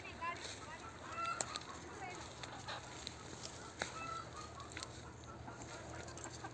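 Free-range hens on a poultry farm cluck softly in a few scattered calls over a steady outdoor hum and rustle, distant rather than close.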